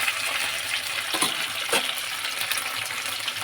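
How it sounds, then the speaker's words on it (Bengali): Katla fish frying in a covered pan, a close, continuous hiss and crackle of sizzling oil at an even level from start to finish. "ঢাকা দিয়ে দিয়ে মাছটাকে ভাজতে হবে"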